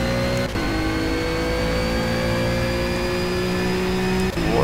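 Ginetta GT4 race car engines in the racing game Project CARS, a loud sustained high-revving drone with steady harmonics, briefly dipping twice as gears shift, with no voices.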